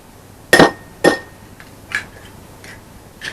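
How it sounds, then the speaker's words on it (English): Eggs crack sharply against a bowl rim for bread pudding, two loud clicks close together followed by a few fainter taps and drips, close by with no talk. "just going to crack the eggs"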